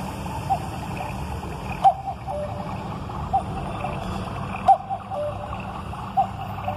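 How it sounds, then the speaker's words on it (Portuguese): Steady rushing of a waterfall runs behind a German cuckoo clock, a Heidi chalet model, with faint, evenly spaced clock ticks punctuating the constant water noise. "Pode ouvir o som da cachoeira atrás."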